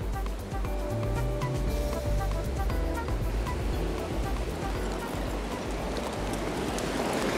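Rough sea waves break at a rocky fishing spot, giving a loud, continuous wash of surf with churning low rumble and wind and no talk over it.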